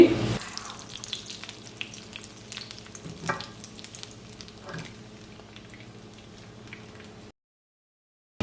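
Cashews and raisins fry in butter in a pan, with a steady sizzle and a few scraping stirs, until the sound cuts off abruptly near the end, no talk.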